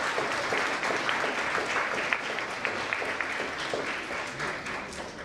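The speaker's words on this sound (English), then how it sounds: "Give a round of applause for your supporters" A large audience at a nursing pinning ceremony applauds for the graduate nurses' supporters, a dense, sustained wash of many hands clapping at steady volume throughout.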